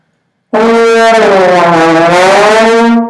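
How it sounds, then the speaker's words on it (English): A loud, brassy low trombone note sliding smoothly downward then back up, a single sustained glissando lasting nearly three seconds, close and full. "try a glissando on it"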